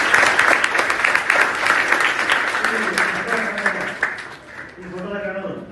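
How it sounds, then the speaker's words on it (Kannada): An audience at a Kargil Vijay Diwas commemoration at a science college claps loudly for the Kargil soldiers, the clapping fading as a voice speaks over it. "ಒಂದು ಜ್ವರದ ಚಪ್ಪಾಳೆ ಹೊಡಿಯುವ ಸೈನಿಕರಿಗೆ"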